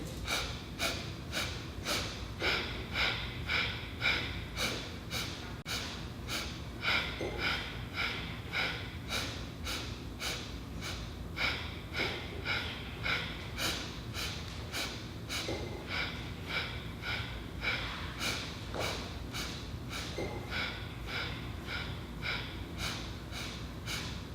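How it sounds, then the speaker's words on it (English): Rhythmic kundalini yoga breath work: a steady series of short, sharp nasal sniffs in sets of four on the inhale and four on the exhale, close and alone, repeating evenly throughout. "Inhale 4 sniffs, exhale 4 sniffs."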